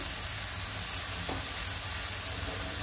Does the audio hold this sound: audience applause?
no